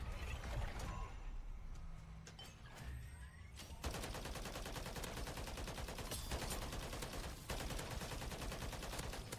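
Video game gunfire crackles in rapid, dense bursts, quieter and sparser at first, then a loud sustained barrage of overlapping shots fills the rest of the stretch, with no talking.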